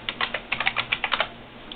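Quick, uneven keystrokes clatter on a computer keyboard during an IBM RS6000 AIX 5.1 install, a dozen or so close clicks in short bursts with no talk.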